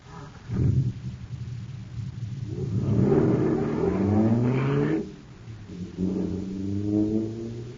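Jet car engine sound effect from an old radio drama, a loud whooshing roar that rises and falls in pitch over several swells, starting with a sharp burst and fading between surges.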